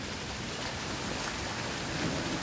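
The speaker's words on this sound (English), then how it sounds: "Oh my gosh, look at this rain." Heavy rain pours steadily outdoors in Oklahoma, a dense continuous roar with a low rumble that may be distant thunder mixed in, with no voices.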